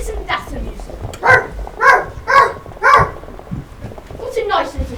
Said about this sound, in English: What a nice little dog.